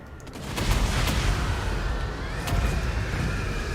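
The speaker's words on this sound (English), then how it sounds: "Let's get this cannon shooting here." Cannon fire on a Total War: Warhammer 2 battlefield, Empire army, heard as a sustained roar of distant gunfire and booms with a few sharper reports near the start and middle, steady and loud throughout.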